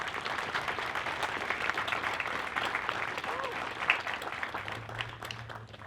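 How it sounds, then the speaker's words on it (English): Audience in the bleachers at a 2022 high school graduation ceremony applauding for the graduates' parents and guardians: a soft, sustained patter of many hands heard from a distance, with some voices mixed in. "How about a round of applause for the parents and guardians of our students?"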